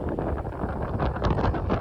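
Strong wind buffets an open meadow, a dense, steady roar of gusts pressing across the microphone throughout.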